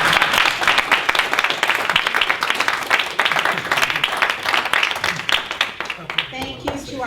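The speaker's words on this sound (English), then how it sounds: "I invite the audience to demonstrate your appreciation with a rousing round of applause." Listeners at a League of Women Voters candidate forum for City Commissioner in Sault Ste Marie, Michigan, give a loud, sustained round of applause that thins slightly toward the end as a voice begins speaking.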